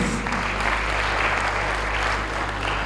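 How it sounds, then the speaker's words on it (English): Steady, dense audience applause fills a TEDx event hall in Katsina, Nigeria, with a continuous wash of clapping at even loudness throughout. "let's give them a round of applause"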